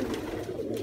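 Young pigeon chick making a soft, low cooing call, brief and close, over faint room noise, with no talk heard.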